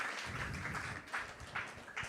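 Audience applause at a Vyas Puja celebration, a soft, fairly distant patter of many hands clapping steadily for a couple of seconds.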